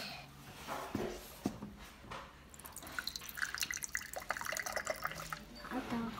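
Water poured into a container at home, coming in trickling, dripping bursts of liquid at close range, with a child's and an adult's voices talking quietly in between.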